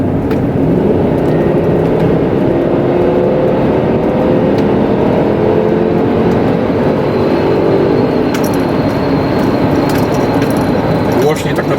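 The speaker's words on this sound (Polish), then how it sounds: "wydobywa się dźwięk silnika V8" A Volkswagen Touareg 4.2 V8 engine roars loudly and continuously under full throttle from about 70 km/h, its pitch climbing steadily beneath heavy wind rush.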